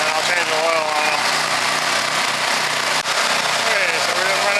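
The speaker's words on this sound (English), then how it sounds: "so we've been running for about 5 minutes. The engines are nice and warm" Engines idle steadily after about five minutes of warming up, a close, constant mechanical hum with wavering pitch and a brief dip near the end.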